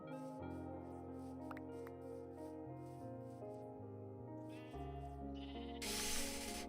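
Sheep bleating in the video game Minecraft, a few wavering bleats over a steady background music bed, ending in a brighter burst of sound.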